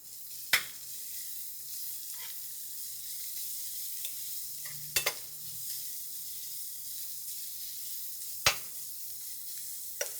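Diced carrot and onion soften together in a pan over lowered heat, giving a quiet, even sizzle with a few sharp clicks of stirring utensils against the pan.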